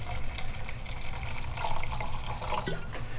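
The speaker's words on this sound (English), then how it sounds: "Now let's get that ice cold wine down in there." Ice-cold Pinot Grigio poured into a sausage mixture for andouille, a steady close liquid splashing and trickling for a few seconds with no voices.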